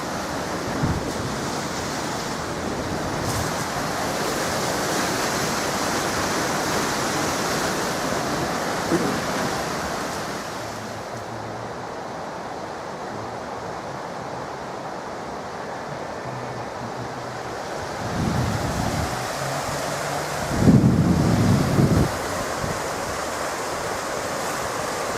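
Steady rushing water from a quarry waterfall at Glyndyfrdwy roars continuously, a broad wash of falling water with wind buffeting the microphone now and then.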